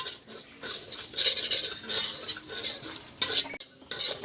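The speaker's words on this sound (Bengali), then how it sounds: "সুজিটাকে আমি হালকা করে একটু ভেজে নেব" Dry scraping and light metallic stirring of semolina dry-roasting in a pan, a steady gritty shuffle with occasional clinks, close up and without speech.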